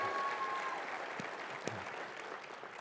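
A live audience at a Rotary district training session claps steadily, a dense, moderate-level patter of many hands that fades slightly toward the end, with a faint voice in the background.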